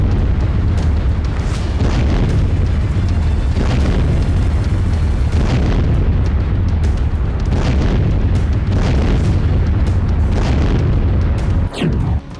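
Ukrainian drone strike explosions in Moscow: repeated heavy booms go off one after another over a constant deep rumble, loud and close, with a sharp burst at the end.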